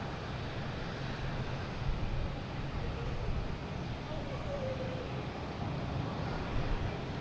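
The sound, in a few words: Virgin airliner taxiing at Boston Logan Airport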